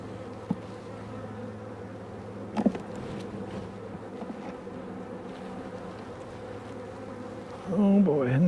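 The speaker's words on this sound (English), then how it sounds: "Lots of bees, lots of bees" Bees swarming over an open backyard beehive, a steady close buzzing drone throughout with brief handling knocks and a louder rustle near the end.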